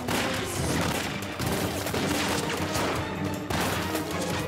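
A war film battle fills the air with dense, continuous gunfire, loud overlapping volleys and rattling bursts with no pause and no speech.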